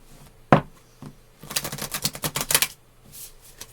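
A deck of playing cards is shuffled by hand during a card reading: a sharp tap, then a quick riffle of rapid fluttering clicks lasting about a second, close and fairly loud.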